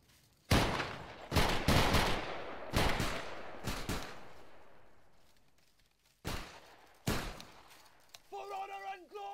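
Musket volleys crack out in the Battle Grounds III line battle, several loud staggered bursts of massed shots, each one tailing off before the next, with voices and a brief horn-like tone near the end.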